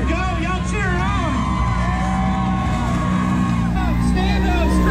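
A crowd at a Mud Nationals mud race whoops and cheers for a driver ploughing down the trail, loud and continuous over a heavy engine roar, with shouting voices near and far.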